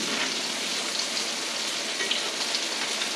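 Redfish fillets coated with Parmesan fry in hot oil, giving a steady, dense sizzle that stays even and close throughout with no talking.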